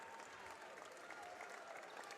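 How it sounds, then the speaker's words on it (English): Applause from a basketball arena crowd at an NCAA men's game as a substituted player leaves the court, a steady dense wash of clapping held at an even level throughout. "Jose Price will get a nice hand from this crowd."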